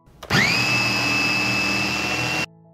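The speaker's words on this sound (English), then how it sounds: "I blend to get a fine paste." Blender whirring as it purees ingredients with olive oil into a fine paste, the motor starting with a rising whine and holding one loud, steady high-pitched drone for about two seconds before cutting off abruptly.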